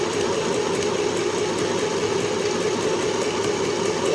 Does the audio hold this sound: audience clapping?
no